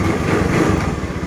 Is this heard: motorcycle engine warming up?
yes